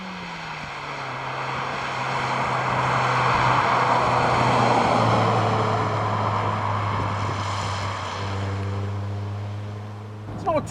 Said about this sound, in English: it's a little bit of a rough sounding engine